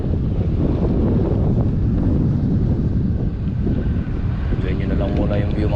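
Heavy wind gusts batter a boat out at sea on a squid-fishing trip, a continuous loud rushing and rumbling with no voices.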